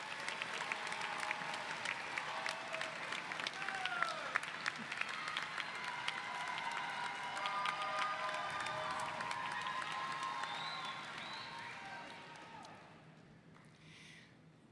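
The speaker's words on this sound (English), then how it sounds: "please look to the stands and applaud your families and your family and your friends" Large graduation commencement crowd in the stands applauding families and friends, a sustained wash of clapping with some cheering and voices mixed in, gradually fading out toward the end.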